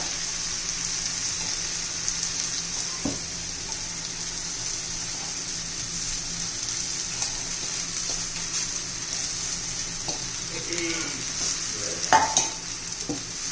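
Poha (flattened rice) being stirred and fried in a pan for hotel-style tomato potato poha, a steady soft sizzle with scraping stir strokes and a few sharper knocks near the end, no voices.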